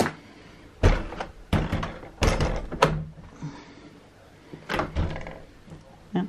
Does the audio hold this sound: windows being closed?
yes